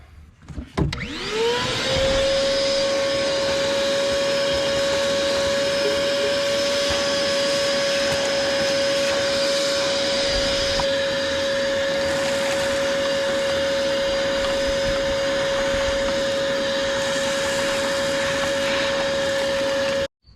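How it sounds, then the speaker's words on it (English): A vacuum cleaner sucks debris out of a 1985 Chevy Corvette engine with the upper intake removed, its motor whining up to a steady, loud drone that holds for about twenty seconds, with occasional rattles of debris. "I'm gonna have to vacuum all that out."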